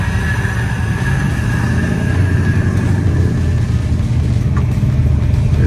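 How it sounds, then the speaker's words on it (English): A Jeep reverses at the Twisted Trails off-road park, its engine a loud, steady low rumble close by for several seconds with no voices. "Chris is trying to back his Jeep up"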